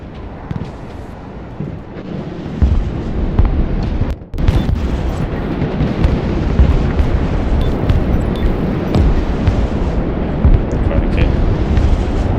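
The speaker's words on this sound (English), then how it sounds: "There's a lot of rockets. A lot of rockets." Rocket barrage in the Broken Arrow war game: a loud, dense, continuous rumble of blasts and booms that barely lets up, with a brief dip partway through.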